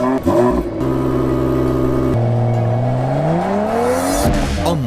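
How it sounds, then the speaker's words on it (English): A Mercedes-AMG E53's standard AMG performance exhaust revs loudly up close, with throaty blips and then a long rising and falling drone. "What we're listening to here is the standard AMG performance exhaust"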